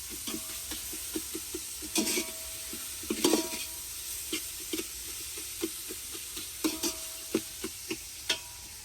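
Tomatoes salted in hot oil in a home kitchen, cooking for zunka, with a steady soft sizzle broken by repeated clinks and scrapes of stirring, fairly close and with no talking.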